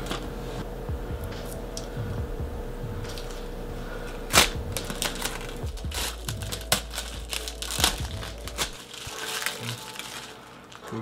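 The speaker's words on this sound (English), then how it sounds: "Oh, I hate the way this tape is sticking." Sticky packing tape being peeled off a new Elegoo Centauri Carbon 3D printer during unboxing, giving a run of close crackling, crinkling rips with sharp snaps, over a low steady hum.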